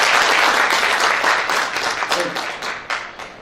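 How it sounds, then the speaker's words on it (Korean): Audience at the opening of a regional development policy seminar in Incheon's Seo-gu bursts into dense applause that gradually thins out into scattered claps. "참석하신 우리 모두를 위해서 박수를 한번 치는 것으로 행사를 시작하도록 하겠습니다"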